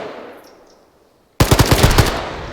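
Gunfire in an Arma 3 battle: after a quiet stretch, loud rapid bursts of automatic weapon fire suddenly erupt and continue to the end.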